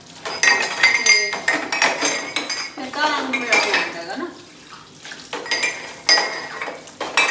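Steel utensils are washed by hand at home, clinking and clattering in irregular bursts of bright metallic knocks, with someone talking intermittently between the clangs.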